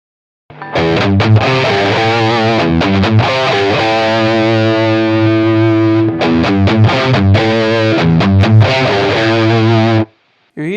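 Electric guitar runs through a Decibelics Golden Royale Klon-clone overdrive pedal with the gain turned up, playing loud, sustained, gritty chords with bursts of choppy strummed hits in between, close and alone before a brief silent break near the end.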